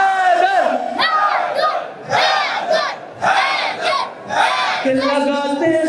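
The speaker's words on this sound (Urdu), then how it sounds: "ہاتھ بلند کر کے حیدر حیدر" A large crowd at a religious celebration in Lahore chants "Haidar" slogans in loud, rhythmic bursts of massed voices, with short pauses between the repeated chants.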